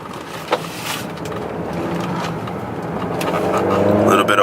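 A BMW F10 sedan on a wet road holds a steady engine drone through a corner, with rising revs and road noise building toward the end, a single knock early on and someone talking over it.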